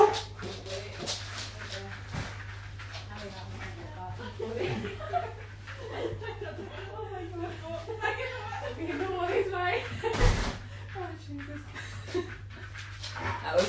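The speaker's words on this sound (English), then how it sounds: "all the dogs tried to squeeze out there" Several dogs crowd a house door trying to get out, whining, panting and yipping under a person's talk, with a hum and one sharp bang near the door.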